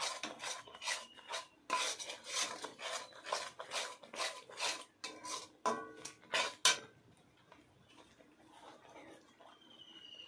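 A nut barfi mixture in sugar syrup is stirred in a pan with a run of about a dozen rhythmic rasping scrapes, close and quiet. The strokes stop after several seconds, leaving faint background noise.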